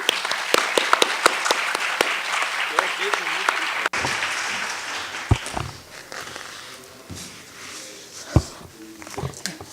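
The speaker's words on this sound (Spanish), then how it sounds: "démosle un gran aplauso al profesor Cui Jian-xiong" Audience applause for a professor at a Mexican–Chinese sinology forum: a dense burst of clapping for about four seconds, then thinning out into scattered claps and room noise with movement as the crowd settles.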